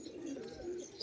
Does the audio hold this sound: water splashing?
no